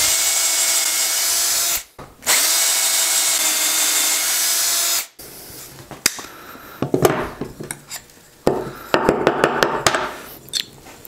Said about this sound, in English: We'll line up our registration marks, clamp it in place, and drill our holes.